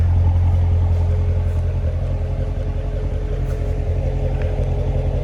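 A 2019 Corvette Grand Sport 3LT's exhaust gives a steady, deep rumble close by, idling evenly with a slight dip in the middle and no talking.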